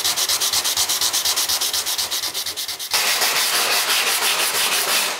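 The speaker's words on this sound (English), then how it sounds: "I'm going to get a larger sanding block and start blocking it smooth with some 180" A fiberglass panel is block-sanded with 180 grit paper, the sanding block rasping in quick rhythmic back-and-forth strokes up close, then shifting to a continuous steady scrubbing.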